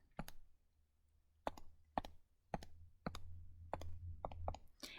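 Keys pressed one after another on a graphing calculator keypad while a function is entered at the y-equals screen, giving sparse, crisp plastic clicks in irregular rhythm, close and fairly quiet, with no talking.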